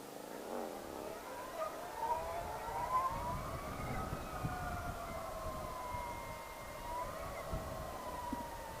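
An electric motor on a 2014 Harley-Davidson Project LiveWire motorcycle gives a steady, high, turbine-like whine whose pitch rises and falls while riding, heard with wind rumble, moderately loud and with no talking.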